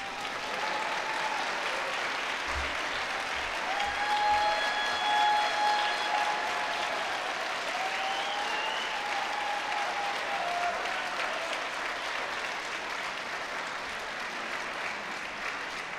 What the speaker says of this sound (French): applaudissons nos diplômés